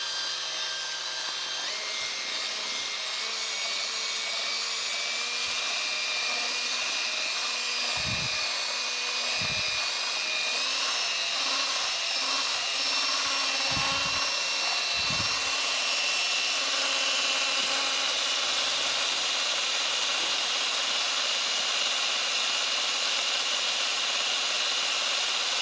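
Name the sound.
powered mixer running, mixing epoxy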